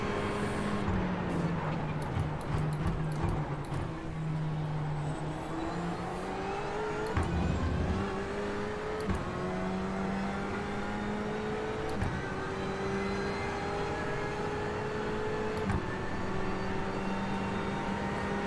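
Race cars in the iRacing sim, including a blue Ferrari, drone steadily with engine pitch climbing through gear shifts and dropping at each change, a continuous in-car engine sound without talk.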